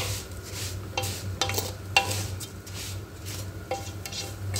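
Thin vermicelli-like noodles frying in a pan until red, with a soft, continuous sizzle beneath the repeated scrape and knock of a utensil stirring close by.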